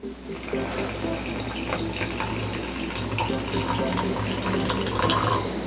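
Water poured into an AeroPress coffee maker, a steady splashing fill lasting several seconds with no speech over it.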